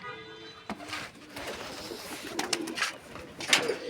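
Pigeons coo softly in a loft where a bird sits on its eggs, low repeated calls mixed with faint rustling and scattered sharp clicks.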